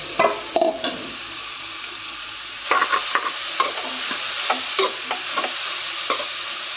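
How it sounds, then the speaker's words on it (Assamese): Ingredients frying in homemade ghee in a pan, with steady soft sizzling under repeated scraping and stirring strokes of a spoon against the pan, close up, no talk. "এইখিনি ভাজি থাকিম ধুনীয়াকৈ মই এতিয়া"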